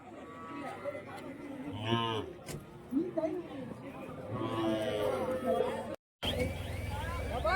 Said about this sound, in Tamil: இதை வந்து பாருங்க மாடு கண்ணோட இருக்கு